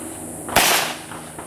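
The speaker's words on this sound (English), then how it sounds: "first shots with a 45" A single sharp gunshot from a .45 pistol at a gun range cracks out loud and close, followed by a brief decaying echo.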